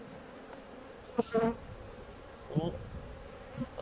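Honey bees buzz at a beehive during an inspection, a faint background hum with a few louder passes of single bees close by.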